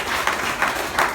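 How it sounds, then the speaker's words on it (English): An audience claps together in a brief, steady burst of applause, dense and fairly close, with no voices rising above it. "Give me a round of applause on that."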